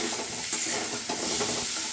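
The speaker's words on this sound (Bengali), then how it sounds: "আর পটলটা ভাজছি" Pointed gourd (potol) slices frying in hot oil in a pan give a steady, close sizzle with soft stirring scrapes, no voices.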